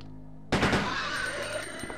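A loud gunshot bursts in abruptly in the 1998 Resident Evil 2 video game and is followed by a ringing, noisy decay and further rough, blasting sound that continues to the end.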